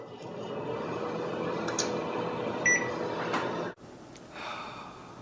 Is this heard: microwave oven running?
yes